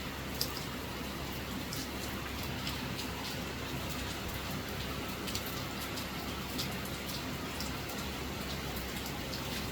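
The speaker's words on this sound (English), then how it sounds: "In Jamaica, we're having rain, bountiful rain." Steady heavy rain in Jamaica patters densely on surfaces, a constant hiss with scattered sharper drops, moderately distant and unbroken throughout.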